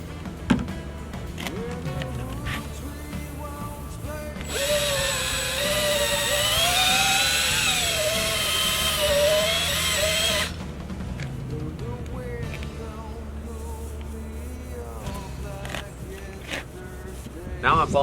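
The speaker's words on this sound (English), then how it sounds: "I'm going to begin using rubbing compound." A power buffer with rubbing compound polishes a wet-sanded Harley-Davidson motorcycle trunk, its motor whine swelling loudly for about six seconds and wavering in pitch above a constant low background hum.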